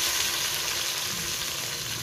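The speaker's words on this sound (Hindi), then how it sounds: "लहसुन जो है हमारा ब्राउन हो चुका है। अभी इसमें डालेंगे टमाटर" Browned garlic and tomatoes fry loudly in a pan, a constant broadband sizzle that stays even and close for a couple of seconds with no voices.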